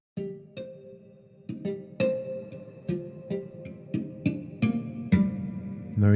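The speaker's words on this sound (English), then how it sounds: "put a little bit of reverb on here." An electric guitar plays a repeated picked figure drenched in reverb, the notes blooming and trailing into a soft wash between strums.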